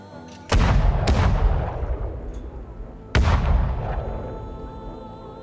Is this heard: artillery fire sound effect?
yes